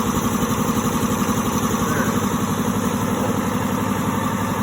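An ETP 200-litre air compressor with a twin-cylinder pump runs in a small enclosed room, a loud, close mechanical drone with a fast, steady pulsing rhythm that continues unchanged.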